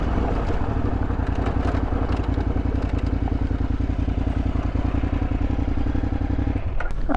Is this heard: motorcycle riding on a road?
yes